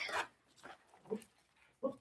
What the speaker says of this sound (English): my dog is so loud